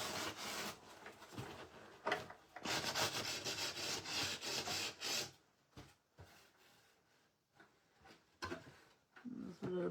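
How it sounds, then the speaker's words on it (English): Sandpaper rubbing over a thrifted metal wall pocket during a DIY makeover, a loud, steady rasping scrub in long strokes that pauses and resumes with short quieter passes. "I'm going to go ahead and sand this part right here."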